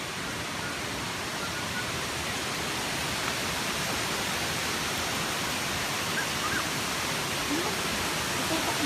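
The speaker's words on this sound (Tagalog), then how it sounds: "naririnig nyo ba yung lagas-las ng tubig? So, ito yung first falls" The first falls at a resort in Bulusan, Sorsogon roar steadily, a dense, unbroken wash of flowing water close by.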